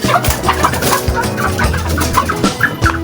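Native chickens cluck in a busy, close chorus of short repeated calls at a farm watering spot, loud and continuous with no talking over them.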